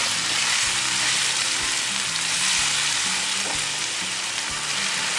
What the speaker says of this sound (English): let those tomatoes get a little bit of that good fire and smoke and get a little caramelization on them